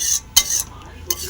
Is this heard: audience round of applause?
no